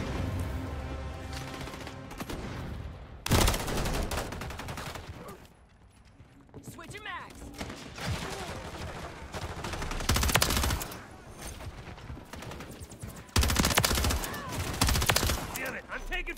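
Gunfire in a Call of Duty MW3 deathmatch, with repeated bursts of automatic fire and sharp shots across the whole stretch and a brief quiet lull near the middle, mixed with loud game effects.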